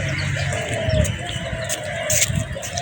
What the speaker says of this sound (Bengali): পায়রা পিজেন ওটাকে বলে পিজেন